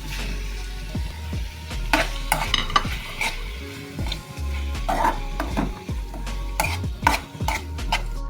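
Small anchovies sizzle and fry in a pan while a utensil stirs and scrapes them in repeated bursts against the metal, close and steady, with no talking.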